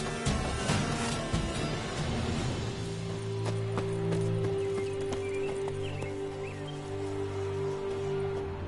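Roach, the horse in The Witcher 3: Wild Hunt, clip-clops with quick, close hoofbeats at the start, then settles into steadier steps under sustained tonal game music and ambience.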